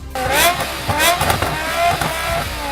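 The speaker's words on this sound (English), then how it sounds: "its legendary S85 V10 engine, an engine that sounds better than any car in existence" A BMW M5 with the S85 V10 engine revs loudly and close, rising and falling in several sharp high-pitched pulls over a couple of seconds.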